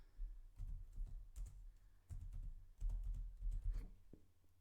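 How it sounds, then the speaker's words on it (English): Quiet computer keyboard typing a chart title: irregular bursts of keystrokes with brief pauses, close and fairly soft, no voices. "Then you type in the given text, which is monthly budget."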